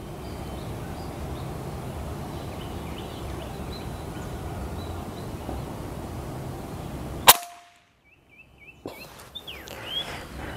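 A steady noisy background breaks off with one sharp, sudden gunshot crack from a Ruger Blackarmy PCP air rifle during an accuracy test, followed by near silence and faint distant bird calls.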